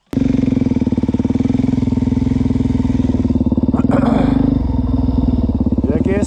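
A Suzuki DR-Z400 dirt bike engine chugs loudly and close in a steady, rapid throb, with brief voices over it.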